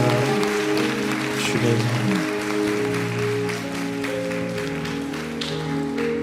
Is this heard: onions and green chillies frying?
no